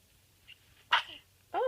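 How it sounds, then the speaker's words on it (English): A dog wakes up and lets out a short, sharp sneeze, followed moments later by another quick snort, in a quiet room. "Oh, big sneeze."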